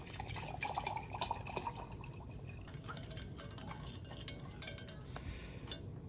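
Sugar is stirred into half a litre of water in a kitchen, giving soft clinking and swishing of a utensil against a container with light liquid sloshing and drips, steady and fairly quiet throughout.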